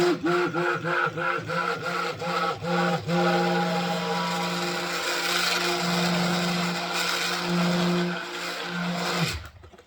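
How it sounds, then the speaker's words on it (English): A handheld mixer blends soap in a container, whirring loud and close, pulsing in short bursts at first and then running steadily until it stops. "And I have two handheld mixers."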